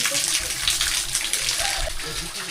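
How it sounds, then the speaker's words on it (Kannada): Water splashing and pouring steadily from a bull's-mouth spout nearby at Antaragange, with voices murmuring faintly in the background. "ಬಸವನ ಬಾಯಿಂದ ಬರ್ತಾ ಇರೋಂಥ ನೀರು"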